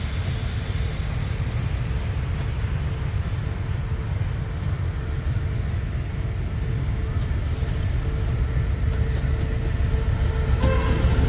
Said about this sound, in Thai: ขบวนสิบเข้ามาแล้ว